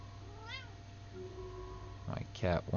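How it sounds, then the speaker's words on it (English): A pet cat meows a few times for attention, short rising and falling cries close by, followed by a person talking. "My cat wants my attention."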